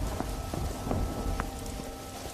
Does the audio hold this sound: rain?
yes